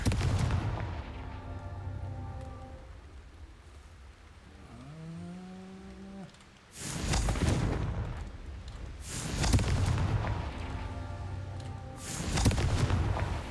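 Loud Confringo fire spells explode in Hogwarts Legacy: three heavy booming blasts at spaced intervals, with quieter tonal game music in between.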